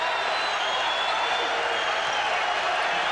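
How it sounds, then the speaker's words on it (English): Loud, steady roar of a packed basketball arena crowd cheering at a 2002 college game, UConn at Arizona, sustained and broad with no breaks, a dense wash of voices filling the space. "Crowd really into it"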